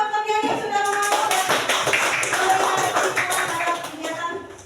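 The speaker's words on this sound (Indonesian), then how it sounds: "Kita kasih tepuk tangan dulu buat Pak Briani" A classroom group claps together in a dense burst of applause lasting several seconds, with faint voices mixed in.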